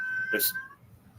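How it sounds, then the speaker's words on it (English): A single cat meows, a short tonal call that rises briefly over a quiet indoor background with faint low rumble. "You hear this cat?"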